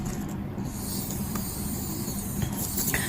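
An electric nail file buffs with a steady, raspy whir, close and continuous without a break.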